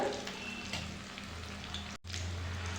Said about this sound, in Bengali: আরও এক পিস ভেজে নেবো ভালো করে